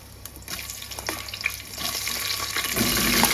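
Onions frying in a pan for a home-cooked vegetable pulao give off a steady, close sizzle that grows louder, with light stirring scrapes and clinks over it.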